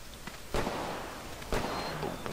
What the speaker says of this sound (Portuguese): Tô ouvindo tiros.